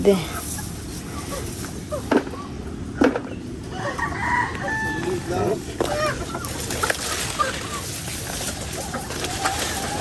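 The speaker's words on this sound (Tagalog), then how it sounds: "Dito po sa may kulungan ni Bossing ng manok." Chickens cluck and squawk around a coop with scattered bird calls and rustling, while people talk quietly nearby.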